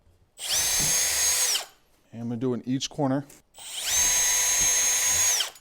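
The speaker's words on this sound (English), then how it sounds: "So I'm going to drill a hole right in the corner." A power drill bores holes into the wood of an RC car ramp in two loud, sustained bursts, each about a second or two long. Someone speaks briefly in the pause between them.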